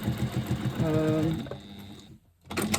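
A home sewing machine runs steadily while top stitching a straight line along the edge of a fabric twist pouch, its rapid rhythmic needle chatter close and loud, slowing and stopping briefly near the end before starting again.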